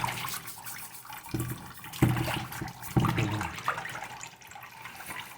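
Water pours and splashes while goat feet are rinsed for sinigang, a running tap stream broken by several louder sloshing bursts close by.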